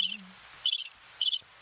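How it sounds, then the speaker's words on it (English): Crickets chirp in short rhythmic bursts, clear and fairly close against a quiet background, with a brief low hum at the start. "No, that's crickets."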